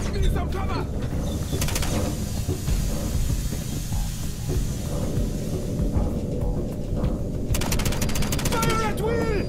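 Dense gunfire from the 007: Quantum of Solace video game, bursts of automatic weapons and shots crackling over a continuous loud battle din, with a steady rumble beneath throughout.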